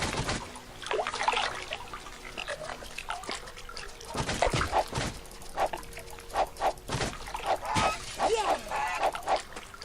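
Angry enemy geese from the Temple of Honk in the game Might and Magic 9 honk in repeated loud bursts, overlapping and irregular, over a busy game soundscape with combat noises.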